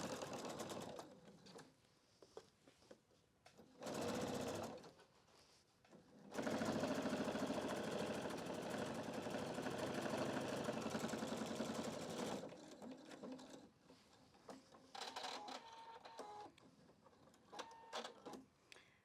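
Pfaff QE 720 sewing machine topstitching along the bottom of a clutch bag, running in loud, steady bursts: two short runs, then a long continuous stretch of stitching, then brief stop-start stitches.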